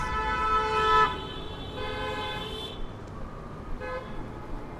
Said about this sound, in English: You honk your horn more and you get the traffic faster.